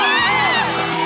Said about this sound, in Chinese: 请大家给我热情的掌声加尖叫